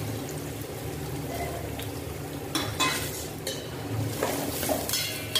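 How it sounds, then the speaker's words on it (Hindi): Chopped onion frying in hot oil for aloo pulao, a low steady sizzle under the clatter of a spoon stirring and scraping the pan in several sharp bursts, close by. "ऑयल गर्म हो चुका है तो मैं इसके अंदर डाल दूँगी प्याज"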